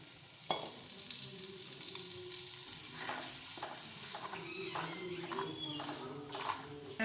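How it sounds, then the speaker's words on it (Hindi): Chopped tomatoes hit hot chili-tinted oil for a potato and chickpea curry, frying with a steady low sizzle under repeated stirring scrapes and soft clatter of a spoon in the pot, fairly quiet and without speech. "अब ये टमाटर डालते हैं"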